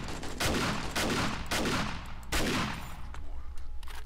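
Sledge turret in the game 7 Days to Die firing on horde night, a steady string of loud, heavy bursts of rapid automatic shots repeating every half second or so, close and dense with no talk.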